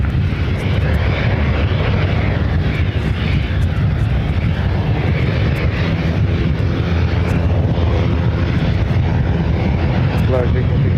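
An American Airlines jet takes off from runway 6 left at Ontario airport, California, a loud, continuous engine roar and rumble that holds strong throughout, close and dominant, with no talk in the clip.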